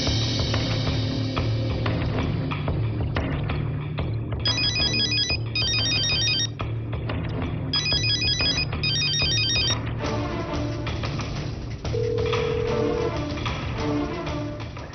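A telephone ringtone plays loudly and steadily for about fifteen seconds after a number is dialed, in repeated electronic ringing bursts with no talk over it.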